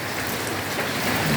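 Steady rain falls outside an apartment in Lào Cai, Vietnam, a dense, even hiss of drops hitting surfaces that stays loud and close throughout.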